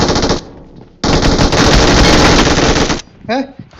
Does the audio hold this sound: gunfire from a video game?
yes